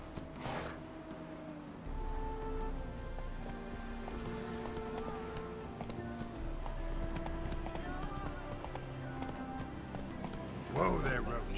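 The horse Roach gallops in The Witcher 3 with a steady run of hoofbeats and a whinny near the end. Someone talks over the hooves, and game music plays underneath.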